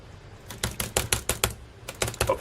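Close, crisp keystrokes on a Framework 16 laptop keyboard come as a quick burst of about a dozen clicks, a brief pause, then a few more taps.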